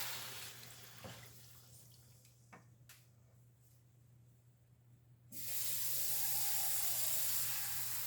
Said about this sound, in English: I am adding about 4 cups of water.